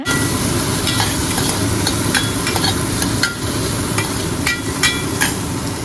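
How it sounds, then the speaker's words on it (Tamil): A large onion sizzles loudly in a hot pan with dried red chillies while being sautéed for brinjal kadaiyal, the steady frying hiss broken by sharp clinks of a spoon stirring. "டக்குன்னு ஒரு பெரிய வெங்காயம் போட்டு வதக்கிக்கோங்க"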